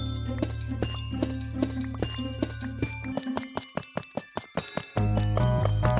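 Amethyst blocks in a Minecraft geode break one after another in quick succession, each with a bright chiming, crystalline ring, over a low game background hum.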